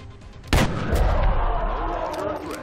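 A single soldier's shot in XCOM Long War, a sharp loud blast followed by a rumbling tail and a few smaller impacts, with a voice faintly in the background.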